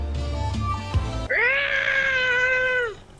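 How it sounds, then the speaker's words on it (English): A single drawn-out cat meow in Fortnite, loud and close, lasting over a second after brief muffled game noise and thumps. "Is that your cat sound?"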